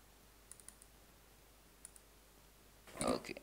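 Computer mouse clicks while working in Photoshop CS5, a few faint, sparse clicks in a quiet room followed by a short louder rustle of handling.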